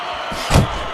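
A punch lands in the Fight Night Champion boxing video game, one short, heavy thump in the middle of a steady crowd and arena wash.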